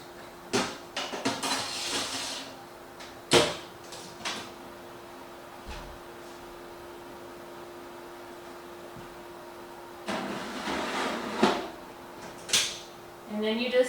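Sausage goes onto the top rack and cabbage into the bottom section of a preheated air fryer oven for an Oktoberfest dinner, with scattered clattering bumps of trays and the door over a steady low hum.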